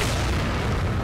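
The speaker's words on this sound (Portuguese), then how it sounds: "Toma explosão na cara." A grenade goes off in Resident Evil 4 as a short, dense booming burst filling the whole moment.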